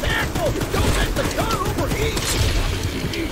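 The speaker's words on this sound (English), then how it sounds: "Careful. Don't let the gun overheat." Mounted gun on a moving train firing in the horror game Choo Choo Charles, a steady dense rattle of rapid shots close and loud for the whole stretch, with mechanical clatter and faint voices underneath.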